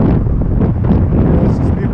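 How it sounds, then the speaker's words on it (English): Strong wind buffets the microphone on an open moor, a loud continuous low roar with gusty fluctuation throughout and no speech. "It's very windy."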